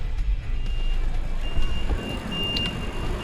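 A concrete mixer truck reverses on a work site, its high, steady backup beeps repeating over a low rumbling engine, with brief knocks and clatter in between.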